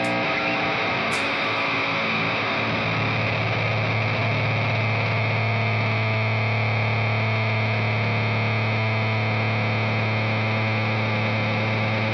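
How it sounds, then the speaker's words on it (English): Bass VI played through a noise gate and a chain of pedals, giving a gnarly, fuzz-like distorted sustain that holds steady and loud for the whole stretch, with no talking. "So you get that kind of fuzz-like sustain by going one into the next"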